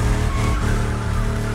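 A DeLorean built as a drift car slides with a sustained tyre squeal over a loud, steady engine drone in The Crew Motorfest racing game, heard close and without any talk.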